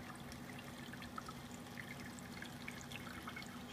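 A pump drains a plant watering tank in an automated Raspberry Pi watering setup, sending a faint, steady stream of water pouring and trickling throughout with a low constant motor hum beneath it.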